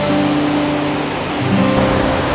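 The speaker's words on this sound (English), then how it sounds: "We're down here at the bottom of the waterfall and the spray is horrendous." Waterfall near Sendai, Japan, heard from its base in heavy spray: a loud, continuous broadband rush of crashing water, steady and close, with no voices.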